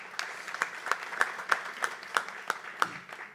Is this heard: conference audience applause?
yes